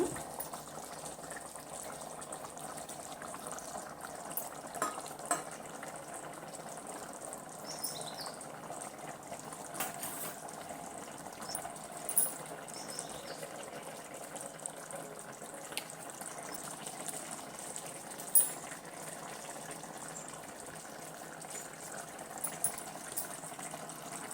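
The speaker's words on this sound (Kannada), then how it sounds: "ನೋಡಿ, ನೀರು ಚೆನ್ನಾಗಿ, ಅಕ್ಕಿ ನೀರು ಚೆನ್ನಾಗಿ ಕುದೀತಾ ಇದೆ" Rice water for egg biryani boils steadily in a pot, a continuous soft bubbling hiss with faint scattered pops throughout, fairly quiet and heard close with no talking.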